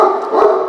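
A big dog gives a short, loud bark or yelp, close by, heard alone without talking.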